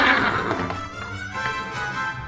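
Horses neigh and whinny loudly and close by on a farm, the calls overlapping with faint hoof clip-clop beneath, with no talking.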